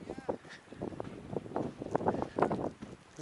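Wind gusting on a beach at Akhlestyshev Bay in Vladivostok in October, buffeting the microphone in uneven rushes and rumbles, with faint voices underneath.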